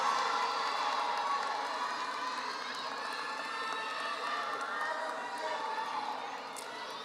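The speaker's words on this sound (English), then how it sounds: "Let's give them a round of applause." At a high school graduation ceremony, a large audience claps and cheers for families, a sustained crowd roar of applause heard at a distance that fades slightly toward the end.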